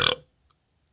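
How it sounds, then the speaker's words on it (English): A single short, loud burp right after a sip of strong, sweet-malt beer, close to the mic, followed by near silence with a couple of tiny faint clicks. "There you go, if I burp, sign of a good beer."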